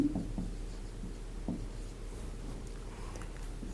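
A pen scratches across paper while maths equations are written out by hand, making soft, intermittent strokes and taps over a low background hum, close and quiet.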